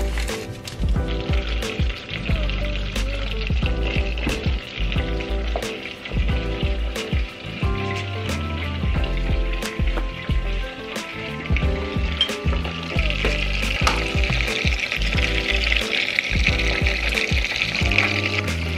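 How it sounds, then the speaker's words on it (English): Stick of butter melting in a pan, a steady close sizzle and bubbling crackle that grows slightly brighter over time, with occasional clinks and a background music track. "we're gonna start off by putting a stick of butter in our pan"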